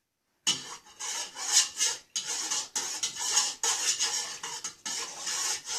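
Sweet chili sauce is stirred in a large bowl, making close, rhythmic scraping and rasping strokes with brief pauses between them.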